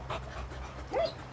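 A 3.5-month-old Newfoundland puppy panting close by, with soft rhythmic breaths and a couple of brief whimpery vocal bursts over a low background hum.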